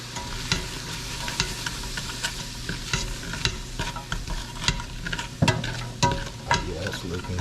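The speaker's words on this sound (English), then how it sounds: "Give this a quick stir." A homemade extra meaty spaghetti sauce, seasoned with Lowry seasoning salt, is stirred in a pan: repeated scraping and clinking strokes over a soft, steady simmer, close and alone.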